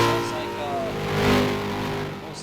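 Race car engine stuck in gear and not shifting during a ROX Mod feature on the Indianapolis road course, a steady sustained drone holding one pitch, fairly loud and continuous, with an announcer talking over it.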